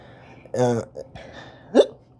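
A single loud hiccup stands out among chatter on a casual talk show, with a second sharp hiccup-like gulp shortly after, both close and clear.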